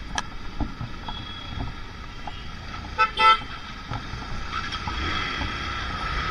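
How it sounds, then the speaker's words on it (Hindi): A vehicle horn sounds from behind a motorbike stopped in traffic in the rain near India Gate, one short honk rising out of the steady hiss of rain and road noise. "ये बैलूनों वाले ने पीछे से हॉर्न दिया क्योंकि मैंने पीछे रोक दिया था"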